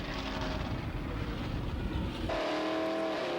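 Competition altered drag racing cars roar at Santa Pod in 1988, a loud continuous engine blare that suddenly shifts to a thinner, higher whine partway through.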